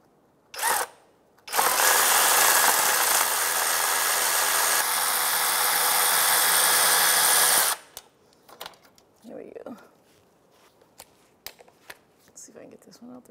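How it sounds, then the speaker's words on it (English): A ratchet works loose the crank sensor on a 2005-2010 Chevrolet Cobalt, giving about six seconds of loud, continuous, close whirring buzz, then quiet scattered handling clicks and knocks. "I'm going to put my ratchet on."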